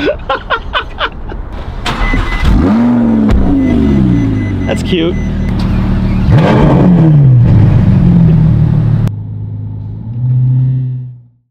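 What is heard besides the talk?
Ferrari F12 supercar starting and revving with loud aftermarket exhaust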